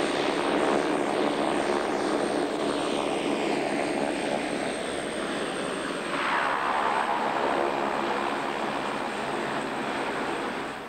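A Flying Doctor Service propeller aircraft lands with its engines running, a loud sustained roar that dominates throughout, swelling as it passes close and easing slightly near the end.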